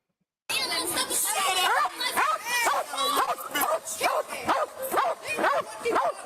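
A police K9 dog barks and yips repeatedly, loud and close, with whimpering between bursts, while someone talks over it.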